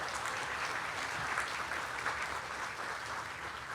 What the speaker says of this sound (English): Please give them a round of applause for their support as well.